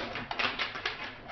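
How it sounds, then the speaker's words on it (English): A deck of tarot cards being shuffled by hand, giving a short run of soft papery riffles and taps, close and fairly quiet, with no talk. "Let me shuffle again."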